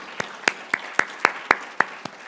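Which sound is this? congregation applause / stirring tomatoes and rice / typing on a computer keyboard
congregation applause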